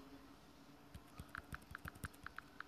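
Quiet taps on a phone's soft braille keyboard, a run of about eight short clicks with soft beeps in an irregular rhythm, fairly faint and close.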